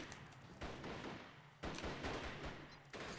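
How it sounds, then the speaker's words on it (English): Rapid gunfire bursts in the video game Rise to Honor, dense overlapping shots in loud repeated volleys, fairly close and continuous. "I'm shooting my guns!"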